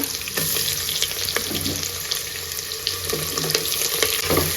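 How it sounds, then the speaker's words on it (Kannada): Green chillies, curry leaves and onion splutter in a hot tempering for a home-cooked lunch, giving a dense, close crackle and sizzle with scattered sharp pops throughout. "ಚೆನ್ನಾಗಿ ಫ್ರೈ ಆಗ್ತಾ ಇದೆ, ಚಟಪಟ ಅಂತ ಇದೆ."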